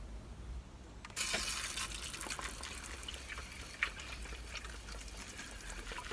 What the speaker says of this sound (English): A bit more water on top.